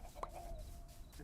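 Chickens cluck in a Minecraft-style hardcore survival game, one short faint cluck over a quiet low ambient hum.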